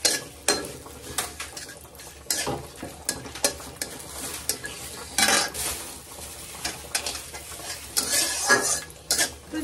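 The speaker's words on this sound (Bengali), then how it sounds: "আর এখানে কাজু কিশমিশটা ভেজে নেব।" Cashews and raisins fry in oil in a pan, a steady sizzle broken by repeated scraping and clinking of a spoon stirring against the metal, close and fairly loud throughout.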